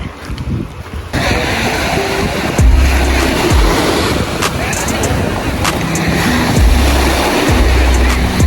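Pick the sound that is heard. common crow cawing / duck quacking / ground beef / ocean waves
ocean waves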